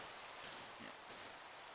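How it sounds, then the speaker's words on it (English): Video-game rain falls as a steady, even, broadband hiss of drops on surfaces, quiet and continuous throughout with no voices. "it's raining now"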